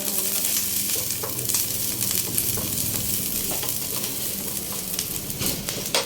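Onions frying in a pan while being stirred, a steady close sizzle broken by scraping and clattering stir strokes, with no voices.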